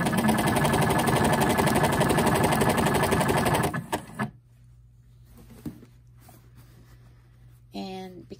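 A sewing machine stitches along the edge of a jacket, running in a fast, steady, loud burst for about four seconds before stopping. Quiet handling noise follows, then a brief mechanical whir near the end.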